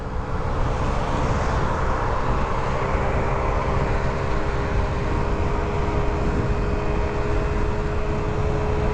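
Stock Honda Ruckus scooter at top cruising speed on a road, a loud steady engine drone blended with wind rush, constant and unbroken throughout.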